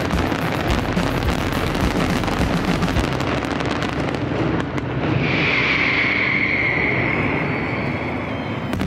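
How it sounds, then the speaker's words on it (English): Nit del Foc firework display during Valencia's Fallas, heard as a dense, continuous roar of rapid bursts and crackling explosions, loud and sustained, with a high whistling tone rising out of the barrage in the second half. "reaches its peak with the Nit del Foc, a unique firework display celebrated in the early hours of the 19th"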